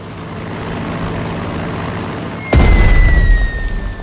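In the strategy game Strategic Mind Blitzkrieg, a bomber attacks enemy infantry: a steady engine drone gives way to a sudden heavy explosion boom with a rumbling tail.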